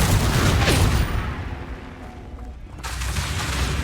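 Booming fire-spell blasts erupt in a Hogwarts Legacy battle, loud explosive bursts at the start and again near the end with a quieter rumbling lull between.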